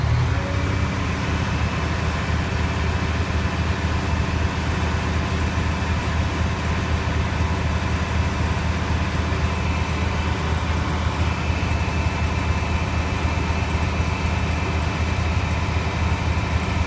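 A Class A truck's diesel engine idles steadily to build air brake pressure, a continuous low rumble that holds even and unbroken throughout with no talking.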